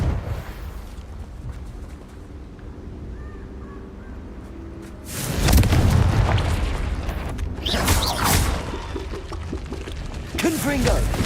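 Explosive fire spell bursts in a Harry Potter video game, a loud booming blast erupting suddenly midway and followed by further crackling blasts, with an earlier stretch of softer game ambience.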